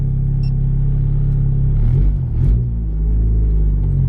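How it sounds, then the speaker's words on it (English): A car's turbo spooling up under acceleration, heard from inside as a steady loud low engine drone with a slight swell and rumble midway, no talk. "I can definitely hear like more turbo noises in the spool up"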